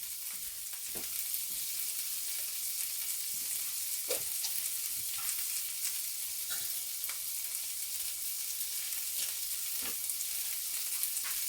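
Food fries in a skillet, giving a steady, even sizzle throughout with faint scattered pops and crackles, close and moderately quiet, with no voices.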